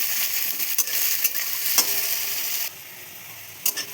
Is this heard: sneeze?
no